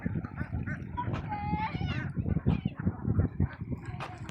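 A flock of farmed ducks quacks and chatters densely at close range on a duck farm, calls overlapping in a busy, continuous babble.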